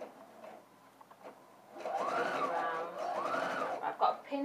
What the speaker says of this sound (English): start sewing a couple of stitches forward, and then a couple of stitches backwards